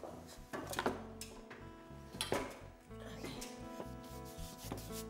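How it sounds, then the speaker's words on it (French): A large paintbrush grinds and scrubs blue pigments against canvas in repeated rough rubbing strokes, close and moderately loud, with faint scraping and clinks between strokes. "il faut bien écraser les pigments à l'aide d'un gros pinceau"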